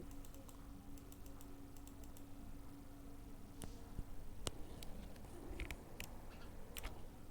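Keys on a computer keyboard tap quietly in a few short bursts of clicks, with one sharper keystroke, over a steady low room hum.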